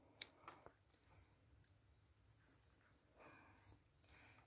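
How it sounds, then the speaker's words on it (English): Scissors snip through crochet yarn in a quiet room, a few sharp close clicks near the start followed by soft handling rustles. "we can snip our yarn."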